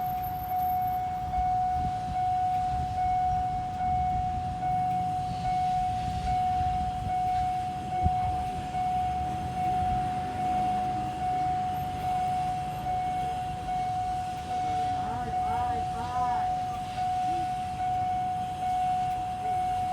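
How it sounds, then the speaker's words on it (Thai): A steady, continuous warning tone rings at the Song Phon railway level crossing in Thailand as locomotive GEK 4038 approaches on the Thonburi–Nam Tok train, holding one pitch throughout while a low rumble runs underneath. "ตอนนี้เครื่องกั้นนะครับ บริเวณจุดตัดทางรถไฟ ทรงพลนะครับ"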